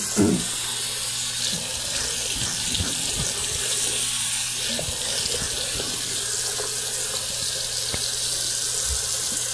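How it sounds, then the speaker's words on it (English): Warm water runs steadily from a bathroom tap into a sink while shaving with a straight razor, a constant close hiss and splash with no talking. "So we have some warm water running."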